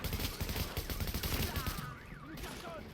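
Rapid gunfire in the video game The Division, a dense fusillade of shots for about two seconds, then fading into softer in-game sounds.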